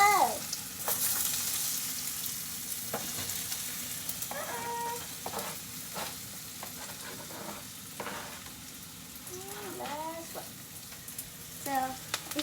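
Potatoes frying in a hot pan for papitas con chorizo, a steady close sizzle and hiss with occasional stirring clinks, while a cat meows intermittently in the background.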